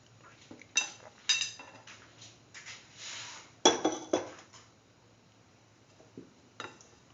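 Stirring carrot vermicelli soup in a cooking pot, with soft scraping and a few sharp metal clinks of a spoon against the pot in irregular bursts, close and fairly quiet, no talking.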